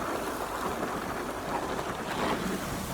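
Steady rain pours outside an open window, a dense continuous hiss with a faint low rumble underneath, close and unbroken for the whole stretch with no voices.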